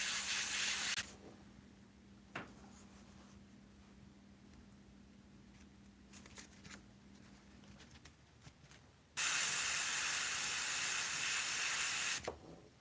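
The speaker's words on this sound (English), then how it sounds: "Spray this one lighter and smaller." Spray painting with Createx paints onto Blair synthetic paper: a short burst of hissing spray, a quiet pause with light handling, then a longer steady hiss that cuts off abruptly.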